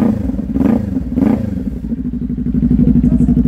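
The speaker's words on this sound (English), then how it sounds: "Let's crank it up, hear how she sounds." A 2022 Kawasaki Ninja 400 ABS KRT Edition motorcycle engine is started and revved, two loud throttle blips followed by a steady, throbbing close-up idle that swells slightly toward the end.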